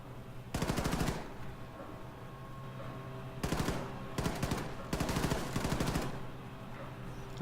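Automatic gunfire at a shooting range in Wolfenstein 2, several rapid bursts of machine-gun fire separated by short pauses, loud and close over a low ambient hum.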